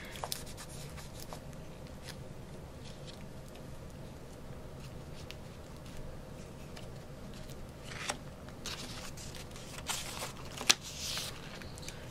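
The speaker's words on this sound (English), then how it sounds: "I'm going to put some tape there" Clear tape is pulled and pressed down in short, faint peeling and crackling bursts over a quiet background, with one sharper rip near the end.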